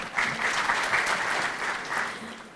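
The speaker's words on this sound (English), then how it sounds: "Let us give a clap to the Lord." Sustained audience clapping at the inaugural KASNEB International Conference for Professionals, a full, even roar of applause that swells slightly and holds steady throughout.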